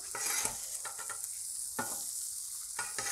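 Kielbasa and pierogies frying on a griddle, a steady close sizzle with occasional scraping stirs of a spatula, no talk.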